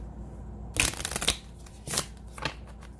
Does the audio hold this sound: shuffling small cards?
yes